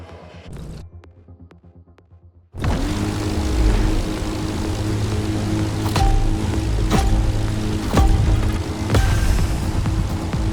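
Propeller stunt plane in The Crew Motorfest, racing an AGP in a Red Bull Speed Clash: after a brief quieter engine idle, a loud, steady propeller drone kicks in and holds, with a few sharp clicks over the roar.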